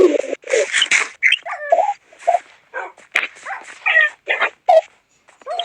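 In the Minecraft video game, a dog whimpers and yips in short, loud bursts separated by brief pauses.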